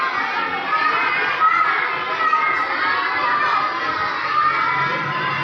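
Boys and girls in a Quran reading class at Jamia Masjid Quds Ahl-e-Hadith recite aloud together, a dense, overlapping chorus of young voices that stays loud and steady throughout, close by.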